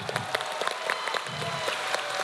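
Audience applause breaking out after a group Macarena dance at a university lū‘au, steady clapping from a crowd over 2 seconds with a few sharper nearby claps.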